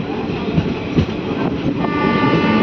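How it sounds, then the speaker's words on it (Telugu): A Machilipatnam-area passenger train, the Macherla–Guntur service, running just after leaving Pedakurapadu station: steady loud rumble of wheels and carriages with continuous rail noise throughout, no talk. "పెదకూరపాడు నుంచి మన ట్రైన్ బయలుదేరిపోయింది."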